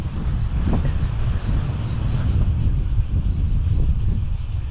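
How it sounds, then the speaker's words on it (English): Steady wind blowing at a seaside campground on Zakynthos, a loud continuous roar buffeting the microphone with surf-like rushing underneath and no talk. "And the wind is blowing"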